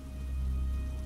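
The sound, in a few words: pouring rain, animation sound effect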